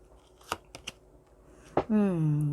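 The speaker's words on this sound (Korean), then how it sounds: "우리 4번님들 현재 상황이 어떠신지 카드 한번 열어볼게요." Tarot cards are flipped over on a table in a few quick, crisp snaps close by, followed by a steady sustained tone.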